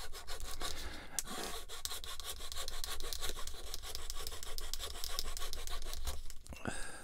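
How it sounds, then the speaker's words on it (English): A hand saw cuts through a plastic part from a Bandai Star Wars 1/144 AT-AT model kit, with close, steady back-and-forth rasping strokes that run on continuously without talk. "Just get your saw and cut it off."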